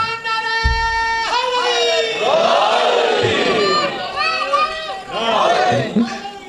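Crowd at a religious gathering loudly chants slogans in unison, several rising collective shouts over a packed, echoing hall.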